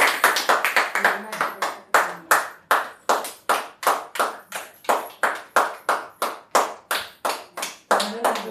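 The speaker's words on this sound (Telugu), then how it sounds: "ఒకసారి చప్పట్లు కొట్టమ్మా" A child claps hands at a birthday celebration, a steady run of about two dozen sharp, close claps in an even rhythm, with a few faint voices in the background.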